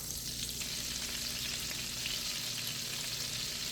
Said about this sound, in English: now I'm putting the half a stick of butter.